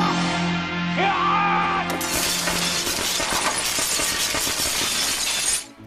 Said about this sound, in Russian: Стекло, конечно, было бутафорским, поэтому он хотя бы не порезался.